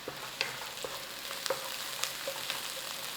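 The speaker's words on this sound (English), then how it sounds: "And then we'll add our garlic and ginger." Minced garlic and ginger fry in a hot pan with a continuous crackling sizzle, punctuated by occasional sharp pops and light stirring taps, close and moderately quiet with no voices.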